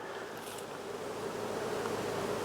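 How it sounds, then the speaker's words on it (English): Honey bees swarm thickly around an open hive during a split, a continuous dense buzzing drone close by with faint rustling and no talk. "look how many bees are just everywhere"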